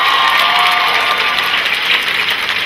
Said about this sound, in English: Give Valentine a round of applause for his solo.